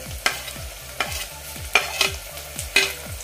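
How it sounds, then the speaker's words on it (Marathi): Chopped tomato sautéing in a pan, a close, loud sizzle with rhythmic spatula scrapes about every half second, each stroke crisp and regular against the steady frying hiss. "आता टोमॅटो सॉफ्ट होईपर्यंत आपण हे परतून घ्यायचे।"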